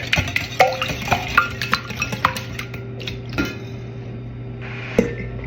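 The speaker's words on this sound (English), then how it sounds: "Give it a little whisk." A whisk clinks and taps against a bowl while mixing lime juice into Jamaican black cake batter, a run of sharp rhythmic strikes that thin out toward the end, close and clear with no talking.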